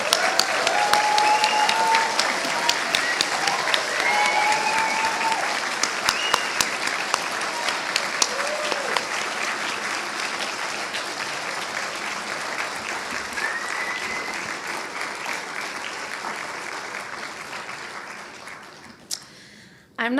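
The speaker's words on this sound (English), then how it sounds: "please join me again in a round of applause for our graduates of" A round of applause for graduates at a British International School Hanoi graduation ceremony, steady crowd clapping filling a hall for about twenty seconds with a few faint whoops, gradually fading out at the end.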